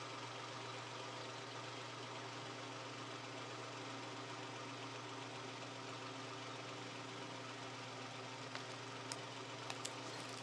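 A car engine idles in a steady, low, even hum that holds unchanged throughout, with a few faint clicks near the end.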